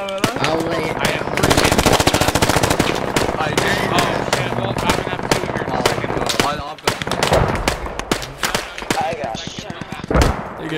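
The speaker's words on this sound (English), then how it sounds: "Where the hell am I taking fire from?" Heavy automatic gunfire from the military shooter Squad rattles loud and close in long sustained bursts, with scattered distant shots and voices shouting over the fire.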